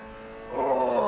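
Mazda MX-5 engine racing at Suzuka in a racing video game, a tonal engine drone that rises sharply in pitch and loudness halfway through as the throttle opens.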